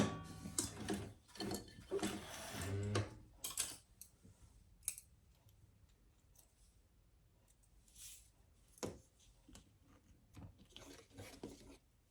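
Small scissors trim leather in a series of close, crisp snips and clicks, heaviest early on and then sparser and quieter, with no talking.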